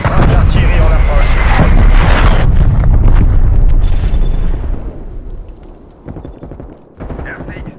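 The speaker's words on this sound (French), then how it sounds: "Frappe d'artillerie en approche." Artillery strike explosions in Call of Duty: Black Ops Cold War on PS5, a loud, sustained roar of overlapping blasts and heavy gunfire that fades after several seconds, with a short burst at the end.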